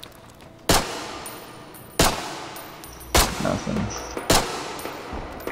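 Machine gun in the zombie game Contagion: four sharp, loud bursts at roughly one-second intervals, each with a short ringing tail, over a quiet background.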